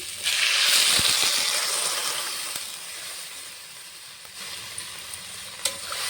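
Vegetables for a potato, eggplant and radish curry are fried with spices in a pan. A strong close sizzle swells at the start and then eases to a softer hiss, with a few light stirring knocks.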